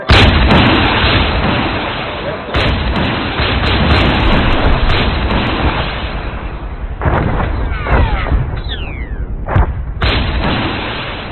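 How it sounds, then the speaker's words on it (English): Missile fired after lock-on in a military video game, heard as loud booming blasts and rumbling explosions over continuous battle noise, with a voice talking briefly. "Now, once you have a lock, fire! Missile."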